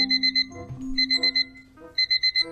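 A PS5 restock alert alarm goes off in rapid bursts of sharp electronic beeps, repeating in quick groups with short gaps between them, clear and alone.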